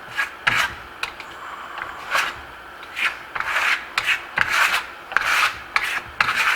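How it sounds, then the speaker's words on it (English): A steel trowel drags a second coat of Venetian plaster tight across a wall, giving repeated rough rasping scrapes in short strokes of about half a second each, close and fairly loud with brief pauses between passes. "So let's load up our tool, our trowel."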